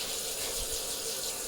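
Water runs steadily from a tap in a Korean bathroom combining shower and toilet, a constant close hiss with no break.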